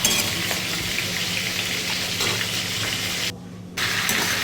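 A fish head frying in a pan, a loud, steady sizzle that fills the whole stretch, with a brief dropout near the end before the hiss resumes; no one talks.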